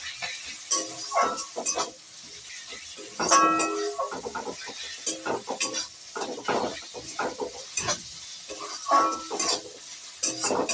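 Spices such as cumin powder and slit green chillies fry in a pan while being stirred, with a steady sizzle broken by repeated scraping and clinking of a spoon against the pan, fairly close.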